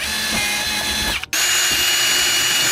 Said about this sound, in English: We'll just go ahead and drill our spots into here.